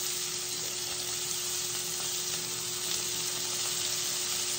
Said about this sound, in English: I'm throwing the seasoning side down, cause I'm gonna re-season this side in the skillet,